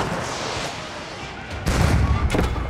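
Bursts of gunfire in a video game, a dense crackling volley that swells louder partway through and stays close and sustained, with no talk over it.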